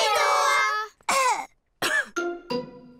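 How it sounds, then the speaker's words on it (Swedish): A character in a Swedish children's cartoon, Peppa Pig, gives a run of voiced, wheezy coughs and throat-clearing sounds: about five short bursts with brief gaps, loud and close, acted by a voice performer. "Som jag trodde, Pelles hosta var smittsam."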